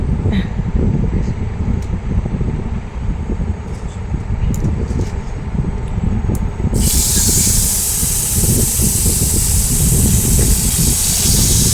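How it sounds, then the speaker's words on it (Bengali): Fish slowly frying in a pan on an induction cooker gives a loud, continuous sputtering sizzle that swells into a brighter, harsher hiss partway through, with no talking. "মাছটা আস্তে আস্তে ছেড়ে দিলাম সুন্দর করে, স্লোতে।"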